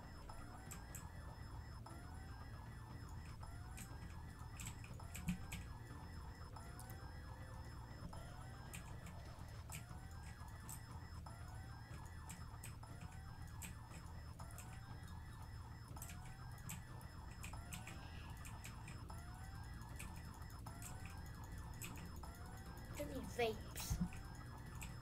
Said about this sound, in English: Oh, we have to set off the alarm.